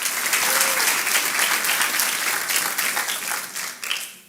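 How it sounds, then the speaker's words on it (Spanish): Strong, dense applause from a church congregation, a loud and continuous roar of many hands close by that holds steady, then thins and trails off near the end, with no voices over it. "strong applause to the Lord?"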